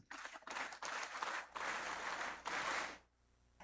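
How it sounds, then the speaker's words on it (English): An audience at a commencement ceremony breaks into applause, with several loud bursts of clapping over about three seconds before it stops abruptly. The clapping sounds fairly distant. "Let us give ourselves a resounding Lasallian clap"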